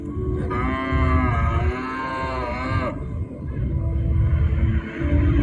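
A bull's deep moo sounds as an effect in a stage show retelling a Kedarnath legend, one long, loud, resonant bellow lasting a few seconds over a low rumbling background.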